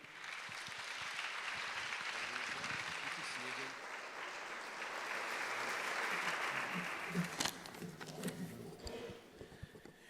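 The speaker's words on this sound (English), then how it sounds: "Could you give a warm applause for John Gillespie?" Warm audience applause fills a hospice anniversary celebration evening, steady broadband clapping sustained for several seconds before thinning out, with scattered voices and a few louder individual claps near the end.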